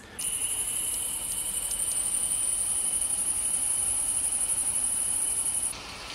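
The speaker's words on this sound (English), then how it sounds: "I heard crickets." Steady, continuous high-pitched cricket chirping from a nursery sound machine, electronic and even in tone, running unbroken for several seconds before cutting off abruptly.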